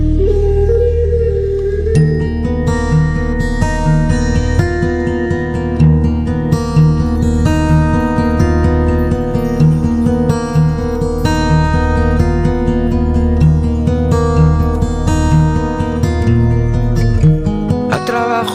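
A singer sings a Spanish song over a full band accompaniment, with a steady rhythmic pulse and layered instruments filling the whole stretch at a consistently loud level.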